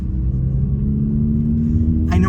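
Honda Civic FL5 Type R with an aftermarket exhaust pulls away, its engine a steady, loud low rumble heard from inside the car, with a brief rise in pitch near the end as it accelerates.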